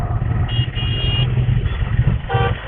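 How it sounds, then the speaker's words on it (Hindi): Heavy morning traffic rumbles on Sheikh Sarai road in Delhi, heard from an auto rickshaw: a dense, steady engine drone with a couple of car horns honking, one long toot and a later shorter one. "और अब अभी हम शेख सराय वाले रोड पर हैं, और सामने देखिए रिटर्न में कितना ट्रैफिक है"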